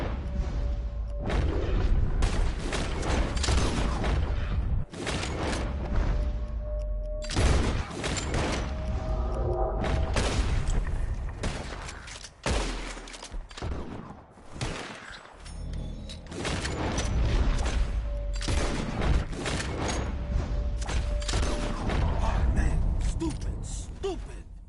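Gunfire in a Red Dead Redemption 2 shooting contest: repeated sharp shots crack out in busy clusters, with game voices, ambience and a faint steady tone running underneath.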